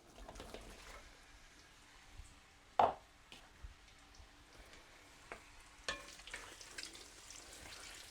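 Roughly chopped onions dropped into hot oil with whole cumin seeds for matar paneer, a faint low sizzle punctuated by a sharp clatter and scattered stirring knocks, quiet and close.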